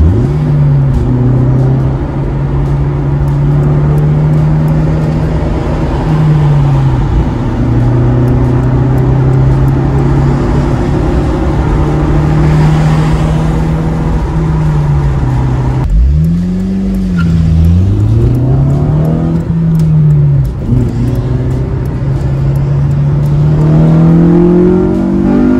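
A 2009 Honda Civic Si (FG2) with a stiffened shifter pulls hard through the gears, its steady engine drone rising and then dipping briefly at each quick shift before climbing again, loud and close throughout.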